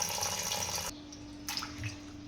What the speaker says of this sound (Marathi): साध्या पाण्यात एकदा आपण धुवून घेऊ